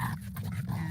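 A dog vocalizes close by in a home, short growly bark-like bursts over a low steady hum, brief and moderately loud, with no talking.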